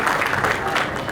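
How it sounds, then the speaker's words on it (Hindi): A short stretch of audience applause at a real estate brand event, steady dense clapping heard at moderate level without a clear start or finish. "ज़बरदस्त तालियां होनी चाहिए श्री वीरल देसाई जी के लिए।"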